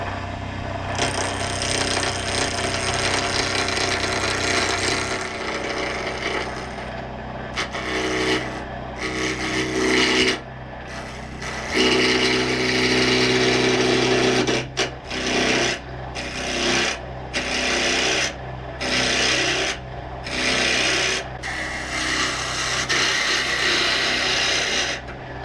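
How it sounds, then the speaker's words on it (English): A piece of Madagascar ebony is turned on a wood lathe, giving a loud, continuous scraping rasp of the tool cutting the spinning wood, broken by brief gaps as the tool lifts off and returns. "I'm looking forward to turning this and getting this put together"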